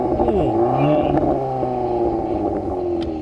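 A 2022 VW Golf R engine in Nürburgring drive mode revving loudly, pitch climbing then settling into a steady high, sustained growl close up.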